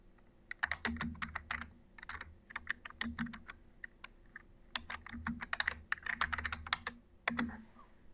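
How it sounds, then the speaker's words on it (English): Someone types a Google search about technology and education on a computer keyboard, with quick irregular bursts of keystrokes and short pauses, close and fairly quiet, and no talking. "Let's type in something general about technology"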